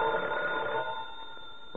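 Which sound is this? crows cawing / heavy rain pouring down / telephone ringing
telephone ringing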